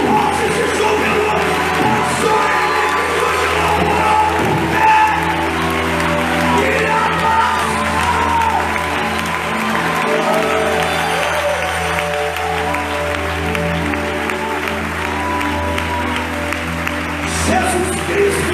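A large congregation at a church youth conference claps and cheers continuously, a loud dense wash of applause mixed with shouts and whoops from the crowd.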